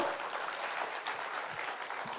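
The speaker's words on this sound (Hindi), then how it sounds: "इसके लिए तो तालियां होनी चाहिए" Faint, distant applause from a summit audience listening to a speech by the Punjab Chief Minister at the TV9 WITT 2025 event, a steady wash of many hands clapping with no voice over it.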